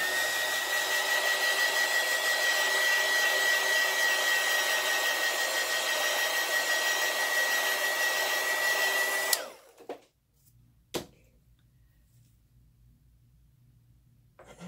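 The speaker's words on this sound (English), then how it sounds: "Then I'm going to dry that." A hair dryer runs loud and steady with a constant whir while drying alcohol ink, then switches off abruptly, leaving a couple of faint clicks and near silence.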